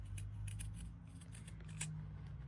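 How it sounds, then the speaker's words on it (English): Pinking shears trimming the edge of fabric beside stitching on a quilted bookmark, a series of faint, crisp snips repeating at a steady pace, close up and quiet over a low background hum. "what I'm going to do now is I'm going to take my pinking shears and I'm just going to trim that off"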